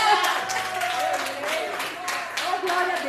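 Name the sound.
congregation applause in church service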